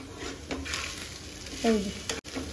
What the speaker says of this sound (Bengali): আর একটু তেল দিয়ে দিচ্ছি, তেলটা একটু কম হয়ে গেল তো মাছটা ভাজার জন্য